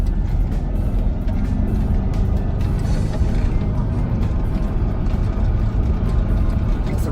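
A 1972 Volkswagen Westfalia van rumbles along the road, its engine a steady low drone with road and wind noise, close and continuous throughout.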